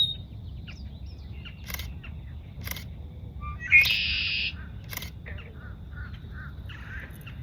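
Red-winged blackbirds call in a summer wetland park, sharp short calls repeating at intervals over a low steady rumble, with a brief camera-like buzz midway.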